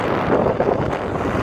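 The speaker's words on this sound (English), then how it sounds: "It's windy like always, as you can see." Strong wind gusts buffet the microphone at the San Francisco waterfront, a loud continuous rushing roar with no voices.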